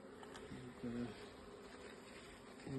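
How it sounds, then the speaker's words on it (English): Honey bees buzz around a hive that has just been robbed of its honey, a steady low drone with a few louder passes close by, one agitated bee swelling near the end. "one of the bees is not very happy since we've stolen the honey off it"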